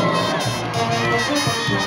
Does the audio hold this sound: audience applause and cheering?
yes